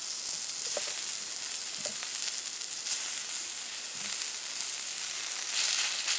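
Pork sizzles on an EcoZoom rocket stove outdoors, a steady broadband frying hiss that holds close and even throughout, with a few soft pops and no talking.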